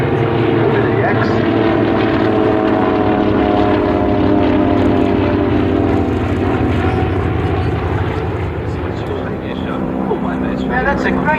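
Vintage propeller planes, including a Wirraway, SNJ and CT4, fly in formation at an Australian airshow, a loud, sustained droning engine roar with steady pulsing; an announcer talks over it throughout.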